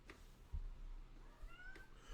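A cat gives a faint meow, a brief rising call with a softer second call shortly after, heard quietly over low background noise.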